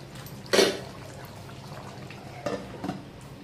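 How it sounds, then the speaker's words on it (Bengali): Beef and potatoes being stir-fried in a pot, with a low soft sizzle throughout and a few short scraping, clattering stirs, close and fairly quiet. "আলু দিয়ে বেশ কিছুক্ষণ কষিয়ে নেব"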